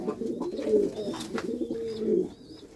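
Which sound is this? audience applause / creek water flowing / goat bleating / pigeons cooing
pigeons cooing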